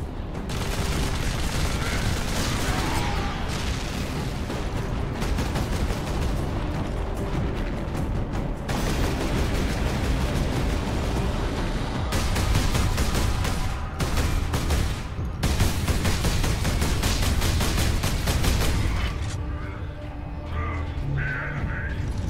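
Heavy bolter fire in Space Marine roars in long sustained bursts, loud and close, with brief pauses between volleys and chaotic battle noise behind.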